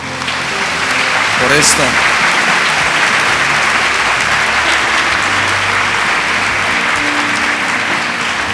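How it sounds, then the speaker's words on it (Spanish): A church congregation gives loud, sustained applause for the ladies, a thick steady clapping that carries on for several seconds while a voice speaks over it. "vamos a darle un aplauso a las damas por"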